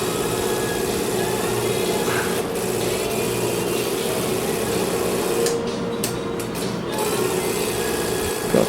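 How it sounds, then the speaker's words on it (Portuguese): A car's air conditioning compressor runs as a steady mechanical whine and hum inside the vehicle, holding constant with brief dips and a couple of clicks toward the end. "O ar condicionado já entrou."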